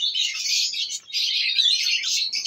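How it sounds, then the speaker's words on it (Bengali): Budgerigars, lovebirds and doves at a bird farm, a dense, continuous chatter of high chirps and tweets from many birds close by, with one brief pause, no talk. "বদ্রি প্লাস লাভবার্ড, ঘুঘু, সব রকম পাখি এখানে আছে"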